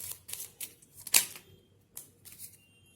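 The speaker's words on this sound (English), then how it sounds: "Okay, now we can shuffle." Tarot cards are shuffled in a few quick bursts of papery riffling and slapping, close and fairly quiet, with short pauses between the bursts.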